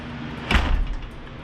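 A new man door on a building being set up as a woodworking shop swings open with one close, dull thump and a brief rattle, followed by quiet room tone.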